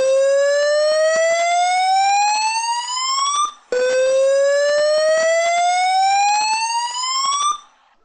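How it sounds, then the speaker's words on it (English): Site evacuation tone: a loud single rising electronic wail, sweeping steadily upward for about three and a half seconds, then repeating after a brief break, alone with no voices. "The evacuation tone is a single wailing tone repeated."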